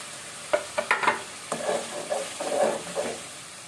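Tomato paste sizzling and frying in a pan for Bengali chicken masala, with a few sharp spatula stirs and scrapes over a soft continuous sizzle, close and moderately loud, no talking.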